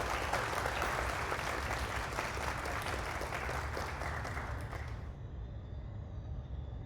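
A crowd applauding steadily for several seconds, a dense wash of clapping that cuts off abruptly near the end.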